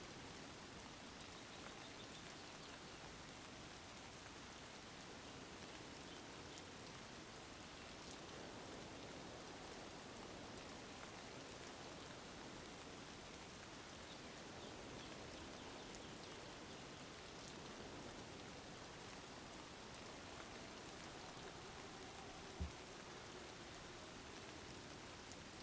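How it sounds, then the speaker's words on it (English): Heavy rain pours steadily and close, a dense unbroken hiss across the whole stretch with one brief sharp knock near the end; no voices. "I can't hear very clearly because there's so much rain."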